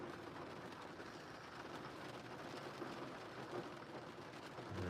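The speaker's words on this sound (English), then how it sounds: "the rain is falling on the car" Steady rain drumming on a car roof, a dense constant patter with a low rumble underneath, close and fairly loud throughout.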